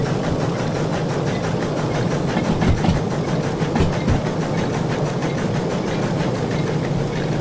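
Steam locomotive in the Derail Valley simulator running at full throttle, a loud steady rumbling chug with rhythmic pulsing, close and continuous without voices.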